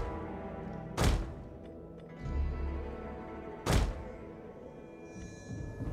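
Onager siege engine firing during a siege in Attila Total War, two sharp heavy thunks about three seconds apart, each followed by a low rumbling thud, over quiet battle ambience.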